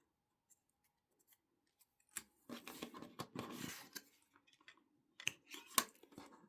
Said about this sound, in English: I'm going to take one of my scrap pieces and I'm just going to cut a little rectangle